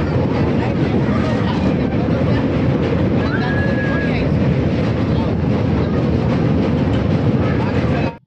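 Howrah-Digha Kandari Express running on rails, heard as a loud, constant rumble and clatter from inside, with wind buffeting the microphone throughout before it cuts off abruptly.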